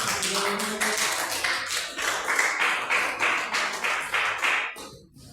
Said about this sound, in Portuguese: Pode adorar o Senhor com as palmas